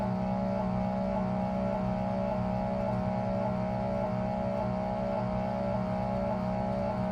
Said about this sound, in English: Is it the stepper motor?